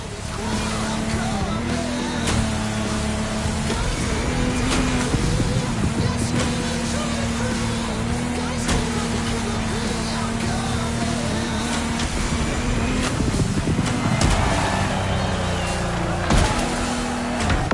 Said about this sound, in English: our challenger handled that gorgeous Lamborghini Technomar like a true sailor